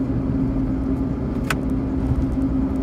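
Fiat Panda first series engine heard from inside a soundproofed cabin on a rough road, a steady muffled low drone and hum with a faint brief click partway through, no talking.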